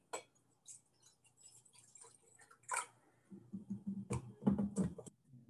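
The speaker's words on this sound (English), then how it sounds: "And you just pour tea into it." Tea pours into a Noritake china teapot, a soft liquid trickle and splash with light clinks of porcelain, moderately quiet and growing fuller toward the end.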